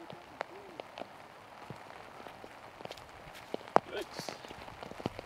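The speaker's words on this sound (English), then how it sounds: "You see the increased consistency of the rain here." Rain falls on a Wisconsin disc golf course during a tournament round, with scattered light drops ticking and pattering over a low, steady background wash.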